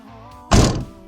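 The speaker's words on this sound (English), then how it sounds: "Shut the door." A 2012 Hyundai Veloster car door shuts with one solid, close thunk that rings off briefly after a quiet, low hum.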